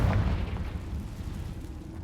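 A Confringo spell in Hogwarts Legacy lands as a deep, rumbling explosion that booms loudly at first and then trails off into a low, churning roar.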